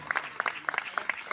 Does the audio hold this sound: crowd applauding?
yes